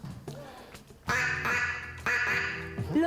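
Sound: instrument imitating a duck quack

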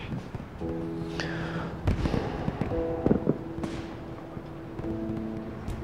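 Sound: fireworks and firecrackers outside

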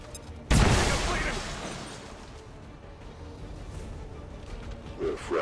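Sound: grenade explosion in XCOM 2 video game

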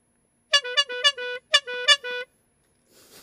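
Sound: car horn honking

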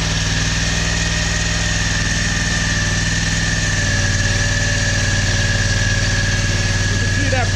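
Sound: power steering pump running as flow is restricted

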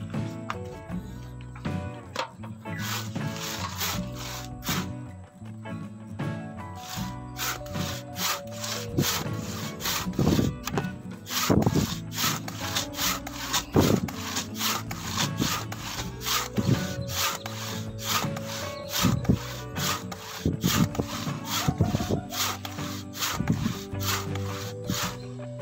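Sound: hand sawing wood

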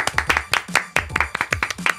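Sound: studio audience clapping

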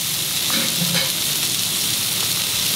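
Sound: hot oil still boiling in pan of mackerel pickle

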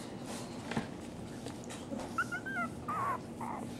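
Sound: dog whimpering

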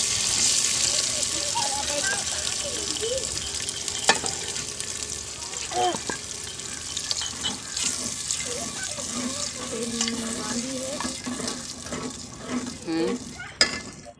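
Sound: eggs frying in masala

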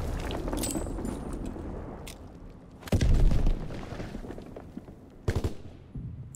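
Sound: grenade explosions in a WW2 video game

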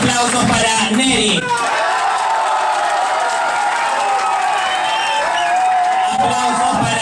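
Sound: audience applause for contestant Neri

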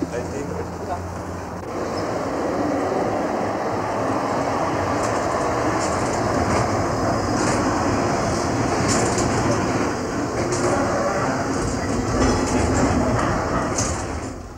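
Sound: tram riding on rails

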